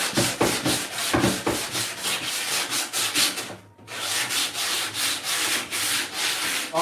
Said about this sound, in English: the best way to know where you haven't sand, basically by hearing